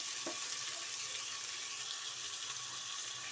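Tomatoes frying in a little oil for tomato saaru, a soft, steady sizzle heard close and fairly quiet, with no talk.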